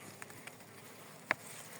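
Soft, steady insect buzzing from many honeybees at a hive, with a brief sharp click partway through.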